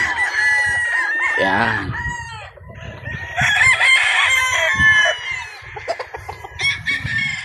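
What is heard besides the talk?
Sweater gamefowl roosters crowing on a game farm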